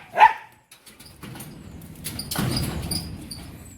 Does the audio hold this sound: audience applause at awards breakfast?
no